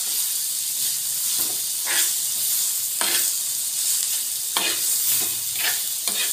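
Crushed cluster beans roast in a pan over a full gas flame, with a continuous close sizzle broken by about six sharp scraping stir strokes at irregular intervals.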